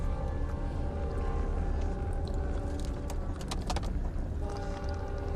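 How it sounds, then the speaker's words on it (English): A freight train rumbles past continuously and loudly, with a dense low roar and scattered metallic squeals and clanks rising through the middle of the pass, no talk over it. "Sounded like a freight train."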